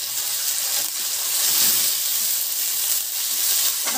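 Pea pods cook in a pan with a steady, fairly loud sizzle and crackle that continues throughout, close up and without talk.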